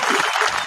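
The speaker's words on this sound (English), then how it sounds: "Y'all, please give a round of applause for Mizz Kellibaby in the building. DJ, hit the button." A canned applause sound effect played by a DJ on a podcast rings out briefly as a dense, steady burst of clapping and cheering with no talk over it.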